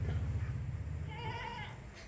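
A large meat goat of about fifty kilograms bleats once, a wavering nasal call rising over a low rumbling background.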